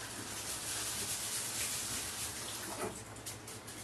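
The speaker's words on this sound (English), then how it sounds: "Do one more quick rinse." Water sloshes and swirls continuously as sushi rice is rinsed in a bowl, a close, soft wet churning that fades slightly toward the end, with no voices.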